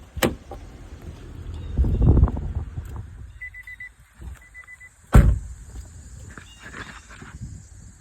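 AC compressor clutch on a 2013 Nissan Altima engaging with the engine off, two sharp, close clicks a few seconds apart over a faint background hum, with no voices.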